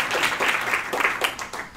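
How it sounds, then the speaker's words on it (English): An audience claps hands during a live business presentation, a dense, steady patter of many hands in close succession with a few louder swells, filling the short stretch without pause. "Please, everybody, clap your hands and wake up."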